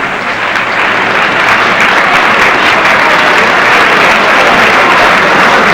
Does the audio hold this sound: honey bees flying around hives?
no